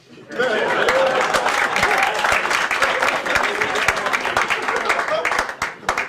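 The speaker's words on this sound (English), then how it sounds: "I think I deserve a bit more applause." Comedy club crowd applauding, a loud, steady wash of clapping with scattered cheers and some laughter that holds for about six seconds before easing off.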